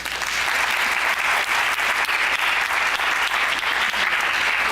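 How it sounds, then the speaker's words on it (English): Sustained applause from a crowd, steady and dense clapping throughout with no talking over it. "let's have another round of applause for Chuck Marohn."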